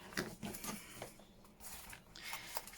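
A sewing machine stitches around junk journal paper pages, giving a soft, close mechanical patter in short uneven bursts.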